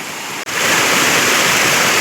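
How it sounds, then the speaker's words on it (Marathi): A small stream crossing flows in a steady, loud broadband rush that fills the whole stretch, with only a brief dropout near the start. "हा छोटासा झरा ओलांडून त्या साईडला गेलाय"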